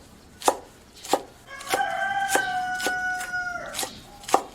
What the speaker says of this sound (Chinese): 葱呢，我们切成葱花